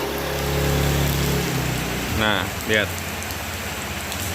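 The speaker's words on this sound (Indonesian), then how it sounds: "Hujan teman-teman." Steady rain falls in a constant loud hiss of drops on surfaces, while a low hum fades out early and a person speaks briefly partway through.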